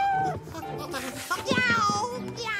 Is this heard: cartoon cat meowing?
yes